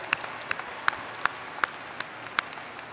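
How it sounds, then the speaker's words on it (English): Scattered, sparse clapping at a university communication and media graduation recognition ceremony, with a handful of distinct sharp claps spaced out over a faint background. "can we give these graduates another round of applause, our 2020 and 2021 CMCI graduates?"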